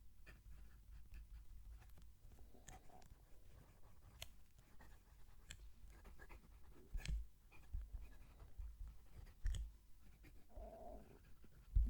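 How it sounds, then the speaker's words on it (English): A Laban 325 fountain pen scratches faintly across paper, soft intermittent strokes heard close to a microphone near the page, very quiet with a low background hum and a few louder handling bumps. "so hopefully you can hear the pen writing"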